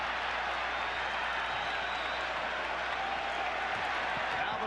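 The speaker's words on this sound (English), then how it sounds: "And hear it from the crowd." Basketball crowd at Madison Square Garden in New York during a Knicks–Bulls playoff game, a steady, dense roar of cheering that holds loud and unbroken throughout.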